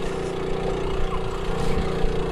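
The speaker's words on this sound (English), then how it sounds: "Throttle wide open." Z50 minibike with big tires running at wide open throttle up muddy hills, giving a steady, close, continuous buzzing engine drone that holds level throughout without any talk.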